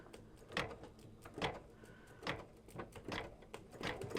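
An embroidery machine stitches the orange letters P and E onto a mug rug, its needle working in a steady mechanical rhythm of repeated clacking bursts at close range, with no talking.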